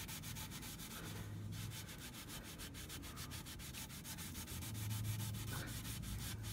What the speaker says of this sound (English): I'm just make sure it's all rubbed in.